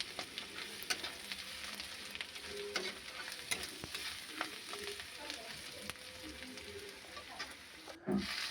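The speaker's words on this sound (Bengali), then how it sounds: "আদা রসুন দিয়ে ভালো করে ভাজছি" Ginger and garlic fry in a pan with onions as the base for a Bengali bata fish curry, producing a soft, continuous sizzle with light stirring scrapes and a brief clunk near the end.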